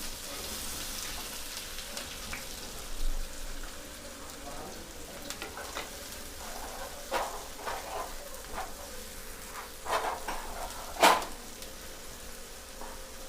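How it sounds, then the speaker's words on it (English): Finely chopped onions and garlic sizzle in a pan on high flame while being stir-fried, a steady soft crackling hiss with occasional louder scrapes and pops from stirring, close and with no talking. "Stir onions and garlic for 1 minute on high flame."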